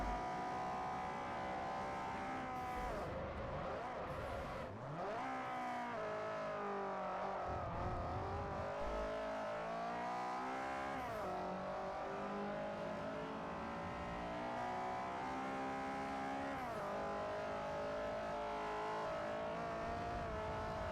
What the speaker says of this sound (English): Are the cars overpowering me again?